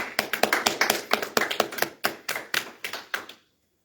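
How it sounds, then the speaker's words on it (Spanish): Brisk, steady hand clapping from a church congregation, about five sharp claps a second, close and fairly loud, then it stops abruptly into silence. "Un aplauso fuerte."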